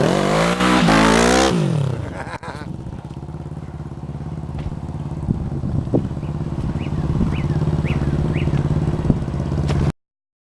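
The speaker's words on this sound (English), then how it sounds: "That's a 450 Honda." A Honda CB450 motorcycle engine roars loudly at the start, then settles into a steady, fairly close drone with a few faint high squeaks over it.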